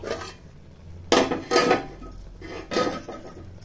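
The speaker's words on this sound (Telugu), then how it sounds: "కొంచెం ఉడకనిద్దామండి మూత పెట్టేసి 5 నిమిషాలు." A metal lid goes onto a pot of cooking masala oats, giving a few sharp close clanks and rattles over a low background hum.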